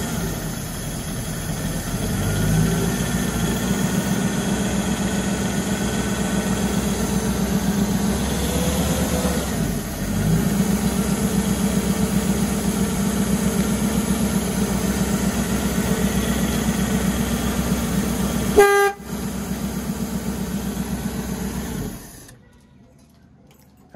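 A 1956 Cadillac Sedan DeVille idles with a steady, continuous mechanical drone that holds for most of the stretch, broken by one brief sharp sound before the engine cuts out near the end.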